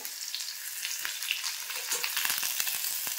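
Garlic and onion fry in hot oil for a lentil dal, giving a steady, close sizzle with scattered crackles and light stirring taps, no voices.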